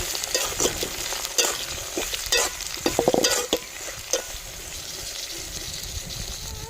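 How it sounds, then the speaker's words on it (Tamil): Vegetables stirred and sautéing in hot oil in a pan, with scraping and clattering stirs over a steady frying hiss, close and moderately loud. "நல்லா எண்ணெயில் எல்லா பொருட்களும் வதங்கி"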